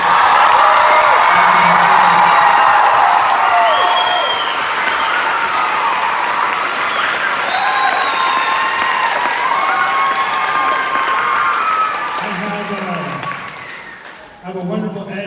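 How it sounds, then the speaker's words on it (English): An audience at a Dragonwatch 3 book launch applauds and cheers loudly, with a few whoops over full, sustained clapping. The sound tapers off toward the end as voices and children's shouts take over. "So maybe a big round of applause for everybody who helped out."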